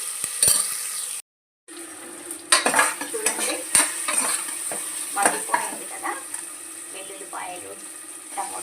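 Leftover masala frying in a pan for stuffed brinjal curry, with a steady sizzle under clinking utensil stirs and scrapes and a brief silent gap near the start.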